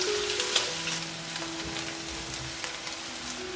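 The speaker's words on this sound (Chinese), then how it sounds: "起锅热油，把五花肉呢先放进来煸出油" Pork belly sizzles in hot oil in a wok, a steady close, crackling fry that runs without a break, with small pops and the occasional scrape of stirring.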